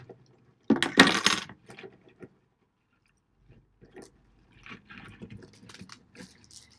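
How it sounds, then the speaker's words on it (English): Keys cutting into a plastic bag of rocks, a loud crinkling rasp of plastic early on, followed by quieter scattered rustles, clicks and small rattles of stones. "I don't have scissors, so I'm going to cut it open with my keys."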